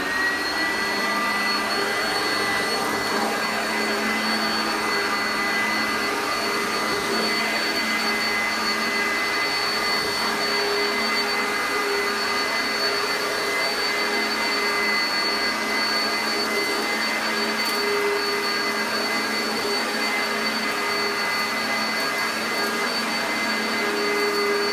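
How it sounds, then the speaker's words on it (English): An Oreck Commercial XL upright vacuum cleaner runs continuously at close range, a steady whine with high tonal hum that holds evenly for the whole stretch without pauses or talk. "we use the Oreck Commercial XL. Does pretty good. So we're gonna get to vacuuming."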